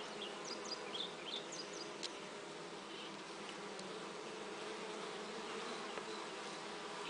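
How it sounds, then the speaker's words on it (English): Honey bees fly around a beehive, a steady dense buzzing hum holding close and even throughout, with a few sharp bird chirps high above it early on. "The bees fly well, carry pollen and nectar."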